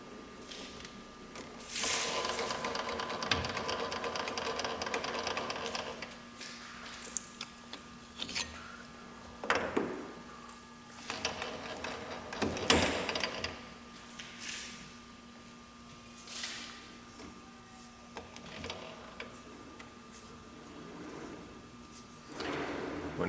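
A milling machine takes a light skim cut across a welded metal face. Between quieter stretches come irregular whirring and scraping bursts, with a few sharp knocks and clicks.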